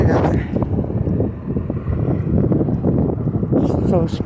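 Wind blows on a blustery day while someone walks outdoors, a loud, constant rumbling buffet close against the microphone, with faint voice-like sounds mixed in.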